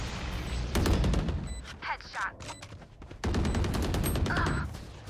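Rapid gunfire in the video game Valorant, two dense bursts of sharp shots separated by a short lull, with people talking excitedly over the action.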